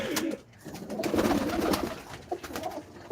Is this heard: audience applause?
no